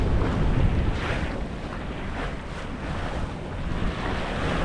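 A sailboat moves across open sea, with constant rushing waves, water wash and heavy wind buffeting against the microphone, loud and steady throughout with no voices.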